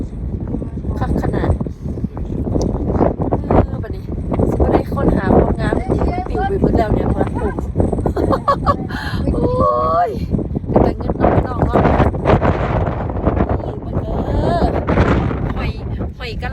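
Strong wind blows outdoors and roars steadily into the microphone for the whole stretch, under near-continuous talk.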